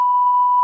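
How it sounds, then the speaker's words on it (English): A single steady electronic beep from a handheld meter during a ghost investigation in a haunted factory, clean and constant, lasting under a second with nothing else around it. "Make it beep again."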